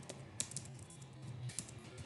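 Quiet, close computer-keyboard typing in short irregular bursts of soft key clicks, with no talking over it.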